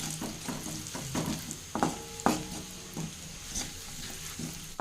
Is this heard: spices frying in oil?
yes